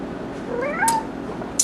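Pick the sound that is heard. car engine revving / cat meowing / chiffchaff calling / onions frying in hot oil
cat meowing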